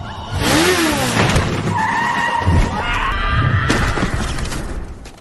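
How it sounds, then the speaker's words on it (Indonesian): A motorcycle skids and crashes into a man on foot, giving a loud, busy burst of tire screech, engine noise and clattering impact that fills the whole moment. "Seperti halnya anak buah Wetsak tertabrak pengendara motor yang juga meleng."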